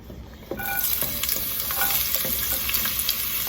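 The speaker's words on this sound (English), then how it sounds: "Just sauteing the onion and garlic" Onion and garlic sauteing in olive oil, a steady loud sizzle that jumps up after a quiet half second, with a few soft scrapes of stirring spread through it.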